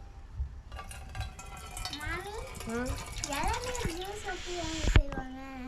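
Water from a tender coconut pours and trickles steadily into a container, a gentle splashing stream heard under a person talking nearby.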